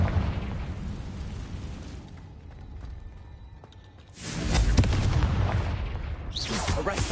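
A Confringo fire-spell explosion in the Hogwarts Legacy video game; a loud burst erupts after a quieter stretch and rumbles on, followed by another sharp blast near the end.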